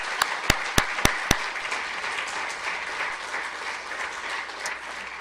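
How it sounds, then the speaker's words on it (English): Applause from the audience at a law review lecture, a dense crowd of clapping hands with a few sharp, close claps standing out at the start, sustained without speech. "I think we need a round of applause for Bria if anybody's met Bria."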